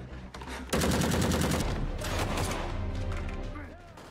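Soldiers in an animated film fire a dense, rapid burst of gunfire that starts abruptly and rattles on loudly, with voices and background sound mixed in.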